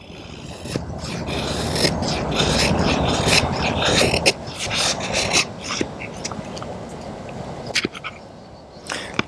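A knife blade gliding down through cedar and old poplar with little pressure, giving a continuous dense rasping, scraping and crackling of splitting wood, close and fairly loud, with sharp crisp snaps scattered throughout.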